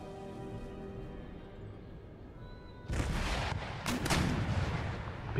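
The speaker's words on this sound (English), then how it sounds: "Give us a way in, artillery." Artillery fire in the Empire: Total War battle game, with heavy booming shots breaking out suddenly partway through over a steady battlefield din and continuing as a dense, loud barrage.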